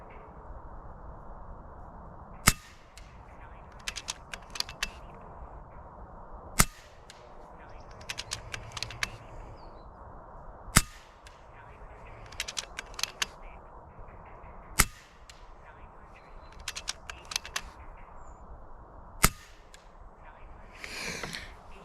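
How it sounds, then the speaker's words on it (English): Five sharp, evenly spaced shots from an FX Impact M3 air rifle firing 13-grain pellets with a 600 mm heavy liner at a 75-meter target, each a crisp pop followed by quieter clicks of cycling and handling in between. "let's see how the 13 grainers perform here at 75 meters in the heavy liner"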